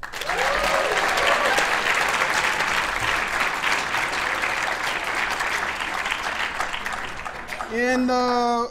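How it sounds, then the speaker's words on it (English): A large audience at a debate awards ceremony applauds for a first-place school, loud steady clapping throughout, with a speaking voice briefly audible near the start and again at the end. "Big round of applause"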